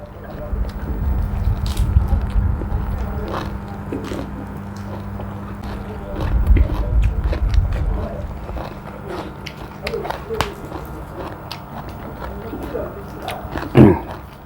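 Someone eats raw larb, a Thai minced meat salad, with close, wet chewing and biting, occasional low rumbling handling noise and a louder crunch near the end, and speech mixed in.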